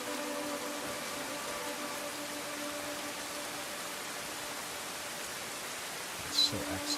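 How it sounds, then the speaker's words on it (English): Rain running off a roof in the video game Crimson Desert makes a continuous broadband hiss at an even level, with a brief sharper splash or rattle near the end. "The rain coming off the roof over there."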